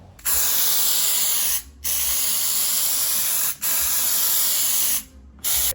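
An aerosol spray can applies DIY bedliner to a pickup truck bed, hissing loudly and close in long continuous bursts separated by brief pauses.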